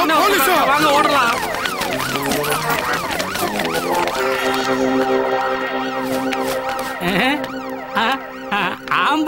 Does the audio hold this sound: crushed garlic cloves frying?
no